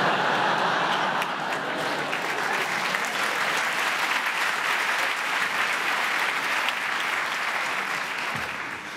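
A theater audience at a French stand-up comedy show claps in a full, sustained round of applause that stays dense and even for about nine seconds, tapering slightly at the very end.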